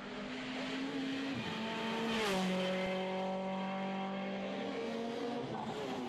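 Thierry Neuville's Total Peugeot Super 2000 rally car at the 2011 Rallye du Condroz, its engine revving loudly up and down through gear changes as it races past, close and sustained.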